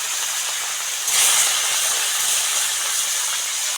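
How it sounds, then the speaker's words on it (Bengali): Fish heads frying in hot oil in a village kitchen give a steady, dense sizzle and hiss, swelling slightly louder partway through and continuing without pause. "এরকম ভাবে মাছের মাথাগুলো ভেজে নেব।"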